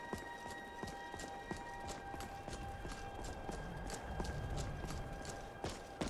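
Steady, rhythmic horse hoofbeats in the video game The Elder Scrolls V: Skyrim clop along at a trot over a faint background hum, fairly quiet and even throughout.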